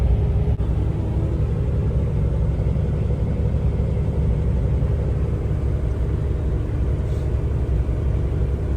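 A truck's engine rumbles low and steady while driving, a constant heavy drone filling the cab with little variation and no talk.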